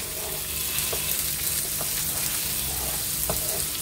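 Turkey and sun-dried tomatoes get stirred with a wooden spoon in a hot pan. A loud, steady sizzle of frying runs throughout, with soft scraping strokes from the spoon, close up and with no voices.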